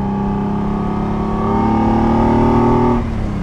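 A 1974 Ferrari 246 GTS Dino's mid-mounted 195 hp V6 drones steadily from inside the car while driving, its pitch rising slightly in the middle before the note drops and eases off near the end.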